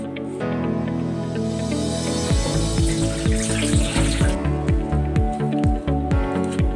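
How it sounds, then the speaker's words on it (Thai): Sticky rice is washed by hand in a bowl under a running tap for a Thai butterfly pea layered dessert, starting with a steady gush of water and then rhythmic wet swishing and squishing as grains are stirred. "ล้างข้าวเหนียวนะคะ"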